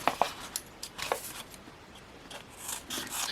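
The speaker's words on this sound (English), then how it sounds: "Need the scissors for this one." Scissors snip and rasp through the packaging of a bought parcel of cards in a quick run of small, close, quiet cuts and scrapes, with no talking.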